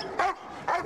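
A dog gives two short, fairly faint barks in quick succession, alone without talk.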